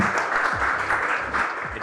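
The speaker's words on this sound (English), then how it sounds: "So big round of applause for the panelists again." An audience at a hospitality investment panel talk in Miami applauds the panelists with brisk, dense clapping that holds steady for a moment, with faint voices underneath.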